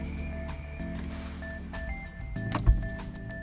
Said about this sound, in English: there's actually a button here on the door that now allows you to open and close the tailgate from inside of the vehicle